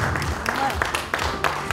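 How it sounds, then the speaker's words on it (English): An audience applauds at an anniversary celebration in a Manila hotel venue, a dense patter of clapping heard briefly under a speaking voice. "Once again, ladies and gentlemen, a round of applause"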